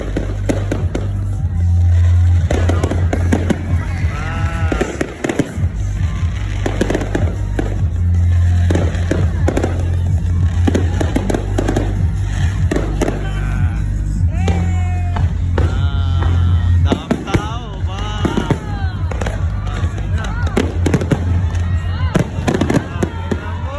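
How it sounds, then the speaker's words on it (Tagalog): Repeated fireworks bangs and crackles pop loudly near and far, with a crowd chattering and shouting throughout and a low rumble underneath. "may pa fireworks"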